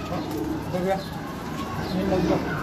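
Pigeons cooing at a fancier's loft in Karachi, a female among them, with soft repeated coos mixed into a busy background while someone talks over them.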